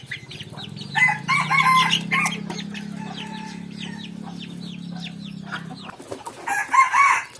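Hens and chicks cluck and peep close by, with repeated short calls in bursts and a steady low hum underneath, and brief livelier clucking near the end.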